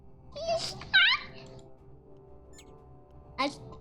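A pet cat meows indoors, two quick rising meows close together near the start and one more after a pause, each short and clear against a quiet room.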